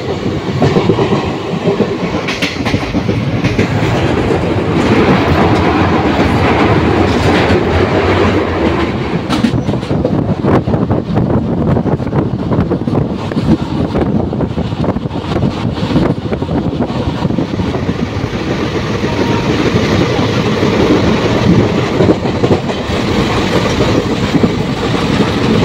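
A passenger train runs between Azimganj and Nimtita station, producing a loud, continuous rumble with rhythmic wheel clatter and buffeting wind noise close to the microphone, sustained for the whole stretch.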